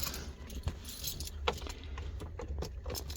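A bunch of keys jangles close by in a series of sharp metallic clinks and rattles, irregular and repeated, over a low steady background hum.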